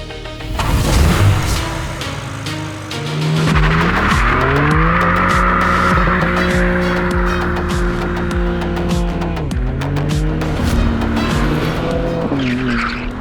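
A BMW M3 CS Touring estate driven hard, its engine loud and close as it revs up through sustained pulls, with tyre noise and a brief pause between bursts.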